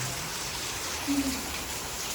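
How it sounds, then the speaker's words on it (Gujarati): Continuous soft hiss of monsoon rain falling in Manipura village, even and steady throughout, with no voices. "મોસમ ચોકાર વરસાદ પડી રહ્યો છે."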